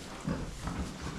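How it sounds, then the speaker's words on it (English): Pigs on a farm grunt in short, low, close grunts, a few in quick succession with no talking. "Curious as to why the pigs are wandering around."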